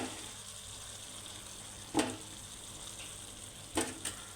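Ribbonfish pieces hiss and sizzle steadily in hot oil, close and moderately loud, with a couple of sharp clinks partway through and near the end.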